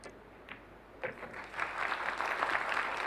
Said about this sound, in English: Very warm round of applause.